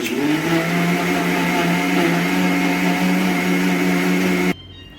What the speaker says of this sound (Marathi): आणखी एकदा मिक्सरमध्ये ते फिरवून आपल्याला घ्यायचं आहे।